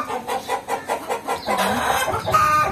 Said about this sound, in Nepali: लोकल कुखुराहरू हामीले पालेको छौँ त्यही उनीहरूको अनि यस्तै उनीहरू कराउँछ अन्डा दिने बेलामा पनि कराउँछ